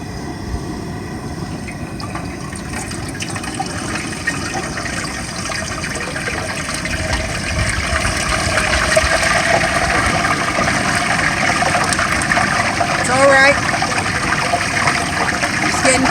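A whole turkey is lowered into hot frying oil on a front porch at Thanksgiving. The oil gives a steady, loud bubbling sizzle that swells and grows stronger partway through and keeps going with no talk.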